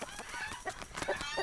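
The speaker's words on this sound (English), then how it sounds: "Those are chickens, alright." Chickens cluck in a cabin-horror video game, several birds giving short overlapping clucks and squawks in a steady, busy flurry at moderate loudness.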